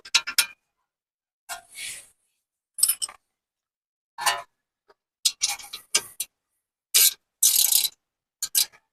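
Metal clicks and ratcheting ticks from tightening rear brake caliper pin bolts on a 2008 Ford Fusion, sounding as sparse, sharp bursts separated by quiet gaps, close by and fairly loud.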